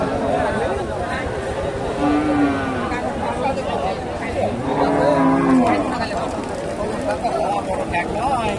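A Friesian dairy cow at a busy cattle market lets out two long, loud moos amid constant crowd chatter and nearby talking.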